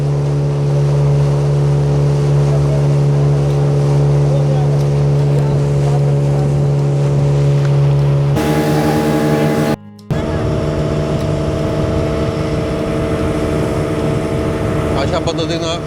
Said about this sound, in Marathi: अशा पद्धतीनं स्पीड बोट ही जात असतात.